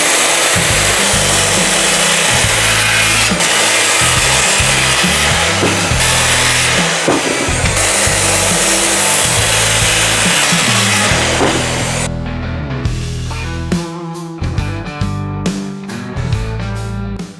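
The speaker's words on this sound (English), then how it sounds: "Guess I better get into cutting the 4x4." A saw cuts through a wooden 4x4 post close by, a loud continuous rasping drone for most of the stretch that breaks near the end into choppier, uneven strokes, with no talk.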